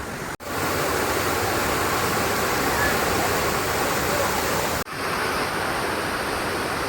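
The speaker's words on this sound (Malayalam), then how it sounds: "വെള്ളച്ചാട്ടത്തിൻ്റെ സൗണ്ട് കേട്ടോ കേട്ടോ" A loud, constant rush of falling water at Marottichal waterfall in the rain fills the scene evenly from start to finish, briefly cut twice.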